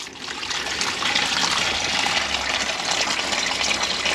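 Steady broadband rush of water gushing from a pipe into a bucket at about 3.2 bar mains pressure while testing household flow, continuous and loud without pause.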